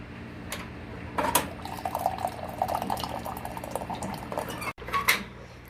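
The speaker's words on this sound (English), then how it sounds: "I'm going to start with the hot water." Hot water poured into a container of sugar to make hummingbird nectar, a steady trickling fill with faint clinks of kitchenware, close and moderately quiet, no talking.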